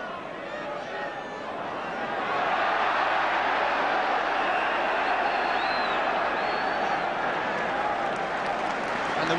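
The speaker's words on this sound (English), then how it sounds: "the whistle goes for half-time, and the applause speaks for itself" Applause and cheering swell from a football crowd at half-time in a 1977-78 Sunderland v Spurs match, a dense, sustained roar of clapping that rises after a couple of seconds and holds steady throughout.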